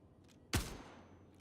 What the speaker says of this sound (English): Oh, I heard gunshots. That was me again.